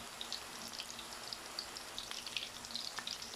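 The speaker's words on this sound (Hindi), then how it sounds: "कोफ्तों को हमने ऐसे ही फ्राई होने देना" Mutton koftas frying in hot oil for kofta dum biryani, a steady close sizzle with scattered crackling pops throughout, no voices.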